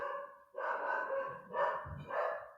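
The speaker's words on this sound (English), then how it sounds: "that's my doggy barking downstairs" A pet dog barks from downstairs in a home: three loud, separate bursts of barking spread over a couple of seconds, with no talking.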